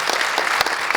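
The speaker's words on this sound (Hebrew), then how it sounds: "כפיים." Audience applause breaks out at a live event, a dense, steady wash of many hands clapping close by for about a second, with no speech over it.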